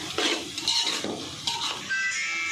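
Spoon stirring chicken chicken masala, garam masala and coriander powder together in a pan for chicken fry biryani, with soft scraping strokes over a gentle sizzle, close and steady, no talking.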